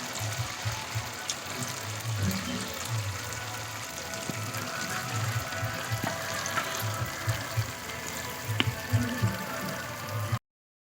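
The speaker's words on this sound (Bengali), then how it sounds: "আমার কিন্তু যা তেল আছে একবারেই সবগুলো ভাজা হয়ে যাবে" Chhana bara, fritters made with batasa and cottage cheese, fry in a full batch of oil with a steady bubbling sizzle and occasional sharp pops and crackles from nearby.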